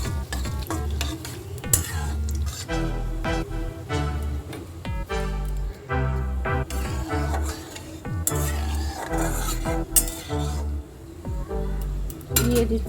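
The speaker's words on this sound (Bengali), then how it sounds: "ফোড়নগুলো সব ভাজা হয়ে গেছে," Whole spices such as bay leaf, cinnamon, cloves, dried red chilli, green cardamom and cumin frying in hot oil for a Bengali fig dalna tempering, a steady sizzle with repeated stirring scrapes and clinks of a spoon against the pan.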